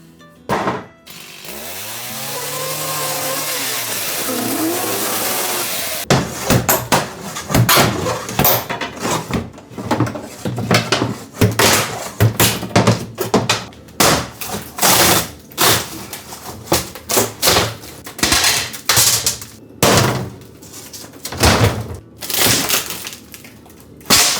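Wooden closets being torn out during a renovation of a 50-year-old house: a long power-tool whine at first, then loud, rapid, irregular cracking, banging and crunching of wood.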